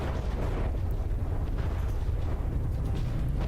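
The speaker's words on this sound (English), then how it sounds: "Shooting some shorter Hesh frag explosives." HESH frag explosive shells bursting in the naval combat game From the Depths, a dense rumbling barrage of low booms rolling continuously with no clear gaps, heavy and moderately loud.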